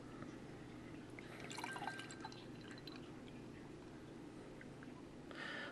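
Lagunitas Equinox Pale Oat Ale pours into a glass with a steady trickling, fizzing flow, close to the microphone and moderately quiet, with no talking.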